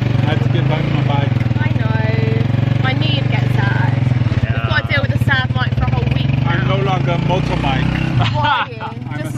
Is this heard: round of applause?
no